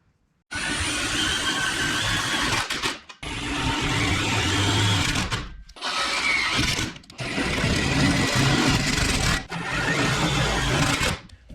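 Sheet metal self-tapping screws driven into gussets on a Langmuir Crossfire Pro CNC plasma table, a power driver whirring loud and close in five sustained bursts of a few seconds each, separated by short pauses.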